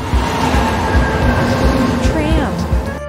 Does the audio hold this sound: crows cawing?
no